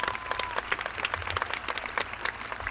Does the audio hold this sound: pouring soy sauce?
no